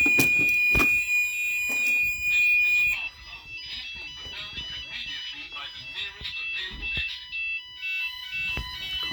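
A GENT Vigilon fire alarm system sounding during a test, loud electronic alarm tones with strong harmonics, followed by a repeating pulsed sounder pattern and an automated voice announcement.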